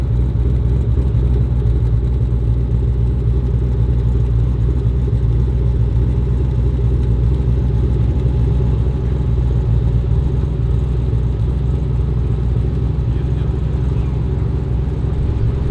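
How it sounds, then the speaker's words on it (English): Steady, loud rumbling idle of a 1960 Chevrolet Bel Air Sports Coupe pro touring hot rod at a beach cruise car show, a continuous deep engine drone with no talking. "A very cool 1960 Chevy Bel Air Sports Coupe."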